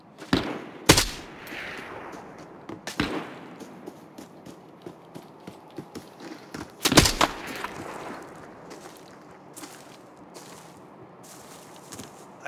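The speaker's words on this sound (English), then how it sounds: "I can't see where they're shooting at me from." Gunfire in the tactical shooter Arena Breakout Infinite, on a thermal valley map: several sharp, loud shots in scattered bursts, near and distant, with quieter footsteps and rustling between them.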